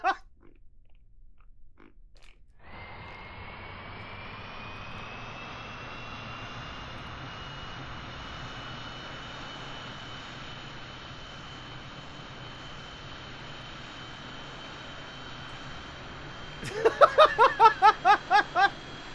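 Rocket afterburners roar in Kerbal Space Program as a steady, loud engine drone that holds for about fourteen seconds, then breaks into rapid, pulsing bursts near the end.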